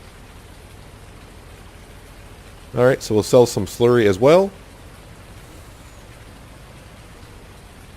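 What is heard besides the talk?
rain falling in video game Farming Simulator 19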